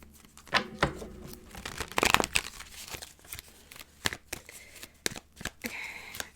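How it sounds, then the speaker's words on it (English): Tarot cards are shuffled by hand in a series of close, crisp riffling and slapping bursts, with irregular papery flicks and taps between them and no talking. "Let's go ahead and pull some cards."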